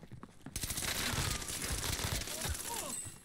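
The Automaton gun fires in Warzone as a dense burst of rapid shots that starts abruptly and keeps going for nearly three seconds, loud and close, with faint voices underneath.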